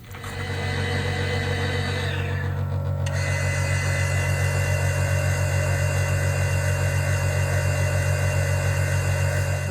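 A steady, loud mechanical hum and whir of a vacuum mixer motor mixing gypsum and water, running continuously, with a brief shift in pitch early on, then unchanging.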